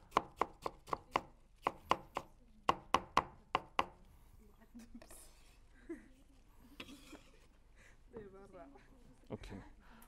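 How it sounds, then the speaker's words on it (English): Knife chopping vegetables for kimchi on a cutting board in a cooking class, a quick run of sharp, close, evenly spaced chops for about four seconds, then softer handling noises with voices talking. "So all cutting finished."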